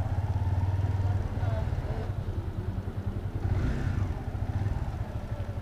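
A motorcycle rumbles along while being ridden, its engine throbbing in a pulsing low drone, with people talking over the ride.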